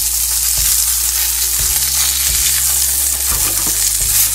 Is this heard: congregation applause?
no